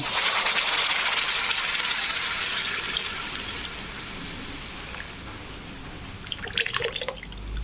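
Chana dal cooking liquid poured into a pot while making chana dal kadhi, a steady wet splashing stream that runs throughout, with a few brighter clinking drips near the end and no talk.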